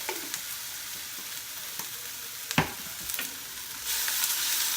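Garlic, about a couple teaspoons, tossed in a hot pan while cooking a buffalo chicken strip dinner: a steady close sizzle with a few sharp scraping clicks from the utensil and a brief louder clatter midway, hiss rising toward the end.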